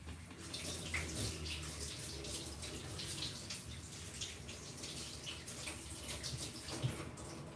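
Running tap water rinsing something in a sink, a steady broadband wash of flowing water with small splashes throughout, close and continuous with no talk.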